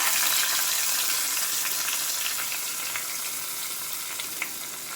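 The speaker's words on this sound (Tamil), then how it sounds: "இப்போ நம்ம டாலோடு ஊற்றிக்கலாம்." Cooked dal poured into a hot tempering of curry leaves in oil, bursting into a loud, bright sizzle that slowly settles into a steady fry, close and alone, with no talking.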